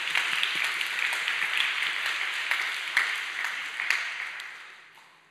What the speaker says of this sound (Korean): 우리 사랑과 격려의 박수 보내도록 하겠습니다.